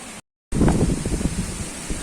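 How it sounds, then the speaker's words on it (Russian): Gusty storm wind sweeps through tree leaves in a village, a loud, dense rustling roar with surging gusts after a brief dropout at the start, no voices present. "Ну а дерево вот оно как качается. Ну вот, видать, по этим листьям что творится. Вот какой ветер у нас."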